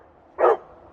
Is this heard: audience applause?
no